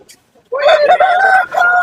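A fancy chicken crows loudly and close by at Kunnathur market near Tiruppur, a single drawn-out call with a brief break, after a moment of near silence.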